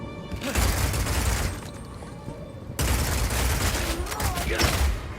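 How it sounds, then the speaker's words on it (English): Crossbow shots fire in quick volleys in the Path of Exile 2 video game, loud and punchy with impacts and shattering, heard in two dense bursts separated by a brief quieter gap. "In Path of Exile 2, we have crossbows that work like sniper rifles, shotguns, and assault rifles."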